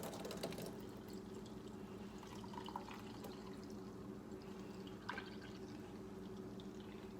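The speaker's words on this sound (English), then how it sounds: "now let's just pour that here in my pint glass." Warm rum flip poured from a mixing vessel into a pint glass: a soft, steady liquid trickle with a splashy start and a brief clink near the end, close and fairly quiet.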